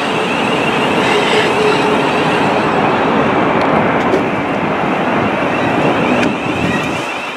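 A 12-coach passenger train rolls in at Gatwick Airport with a steady, loud rumble, partly masked by heavy wind buffeting the microphone.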